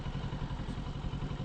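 A Kawasaki Ninja 650 motorcycle engine revs nearby in a steady, rough mechanical drone with a rapid pulsing throb, loud and continuous with no talking.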